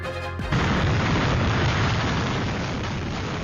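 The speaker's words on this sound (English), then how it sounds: "That is the roar of Irma." Roaring wind of Hurricane Irma, a Category 5 storm striking the Caribbean, breaks in after a brief moment and then stays as a loud, steady, broadband rush with no voices.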